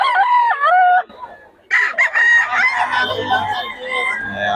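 Young roosters (stags) at a poultry sale in Bocaue crow loudly and close by, with overlapping calls from several birds and some clucking underneath.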